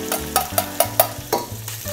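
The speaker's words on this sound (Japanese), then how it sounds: "はい、これをね炒めていきます。" Ground meat stir-frying in a glossy pot gives a loud, continuous sizzle punctuated by regular scraping stirs, about one every quarter second, close and without talking.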